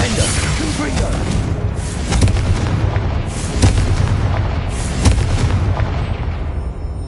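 Confringo explosive spell blasts in the video game Hogwarts Legacy, loud booming bursts landing every second or so over a dense, continuous rumble of combat noise, close and forceful throughout.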